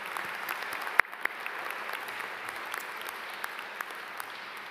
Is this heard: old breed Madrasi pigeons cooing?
no